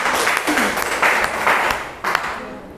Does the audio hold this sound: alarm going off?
no